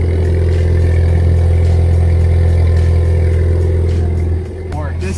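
A 2015 Ford Fiesta ST with an aftermarket exhaust runs steadily at a loud, close idle with a deep droning tone, settling slightly lower near the end as a voice speaks briefly.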